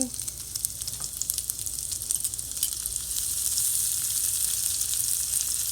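Purple onions sizzling in a hot pan as a burger topping, a steady bright crackling hiss that grows fuller and more even after a few seconds, close by with no talking.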